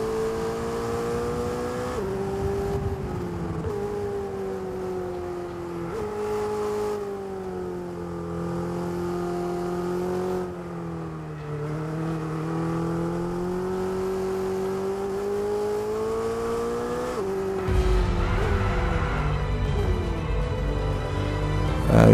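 Ferrari Roma engine in the racing game F1 2022, a continuous loud drone whose pitch rises and falls with gear changes and revving, with a harsher, louder burst near the end; no talking.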